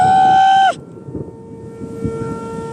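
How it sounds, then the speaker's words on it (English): Town civil defense tornado warning siren in Bainbridge during a storm: a loud, wailing tone that drops away after under a second, followed by fainter, steady, distant siren tones over outdoor background noise. "Okay, and that's our siren in town."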